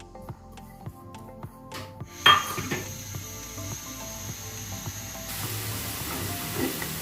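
Sliced onions sizzle in about half a cup of hot cooking oil in a kadai for beef pulao, a soft, steady hiss that swells as they hit the pan, with light clinks of a utensil.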